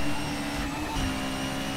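A Shelby Terlingua Ford Mustang fires its nitro boost in a Need for Speed race, a steady roaring whoosh of engine and rushing air that holds loud and unbroken for the whole stretch.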